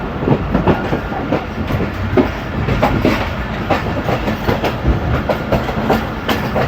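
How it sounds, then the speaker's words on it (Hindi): A passenger train rolls in to stop at Gujar Khan railway station in Pakistan during steady rain, wheels giving a continuous rhythmic clickety-clack over the rails with dense rumbling, loud and close throughout, no voices. "ये जी फाइनली गुजर खान रेलवे स्टेशन पर रुकने वाली है"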